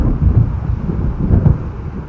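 Stormy rumble of thunder with wind in the Alan Wake video game, a low continuous roar swelling in two broad surges over about two seconds, heard alone.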